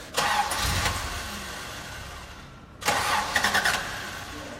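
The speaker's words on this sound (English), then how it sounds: "Can we get it started to listen to the engine?" A Toyota Land Cruiser engine cranks and catches twice, each start a short burst followed by a settling idle, close and fairly loud.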